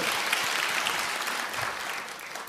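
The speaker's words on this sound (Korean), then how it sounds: "우리 박수로 한번 하나님께 영광을 받드립니다." Church congregation applauding together during a Korean worship service, a dense, steady wash of clapping that fills the whole space and holds evenly before easing slightly at the end.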